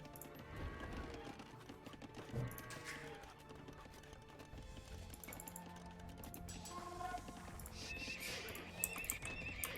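A horse neighs and whinnies in Age of Empires II: Definitive Edition during a Sundjata campaign mission, with hoof clip-clops and busy game sounds around it, fairly quiet overall.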